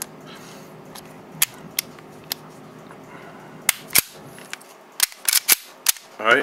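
Gunfire in the video game Gunsmith Bros: Project Infinity from a short-stroke rifle, a series of sharp cracks, scattered at first and then quicker and more clustered toward the end, over a faint background hum with no talking.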